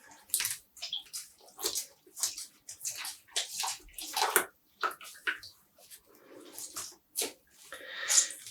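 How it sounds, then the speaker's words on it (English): Close, wet squelching and splattering as water is wrung from freshly dyed yarn, a quick run of irregular squeezes and drips that builds to a louder burst near the end. "Now we're squeezing out the water again."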